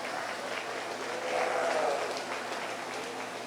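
Audience applause at a 4-H sheep show, a steady patter of clapping that swells briefly in the middle before settling back to a moderate level.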